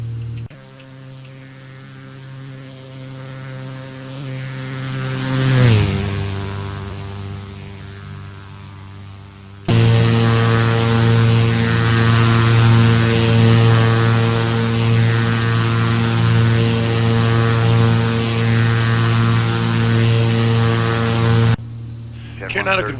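A Beechcraft B200 turboprop makes a flyby in the X-Plane 11 flight simulator, heard as a steady engine drone with a rising-then-falling pitch sweep as it passes, then a louder, constant hum that cuts off abruptly near the end.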